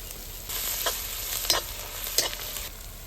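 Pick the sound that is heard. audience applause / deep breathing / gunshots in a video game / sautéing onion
sautéing onion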